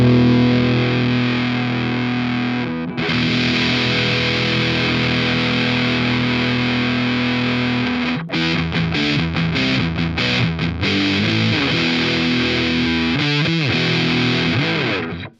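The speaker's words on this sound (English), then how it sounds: "if I hold a chord and sweep all the way through the pot" A guitar chord is held through an Electro-Harmonix Russian Big Muff reissue fuzz pedal while the tone knob is swept across its range. The thick, loud, distorted sustain changes colour steadily, with shifting swells and rapid modulation near the end.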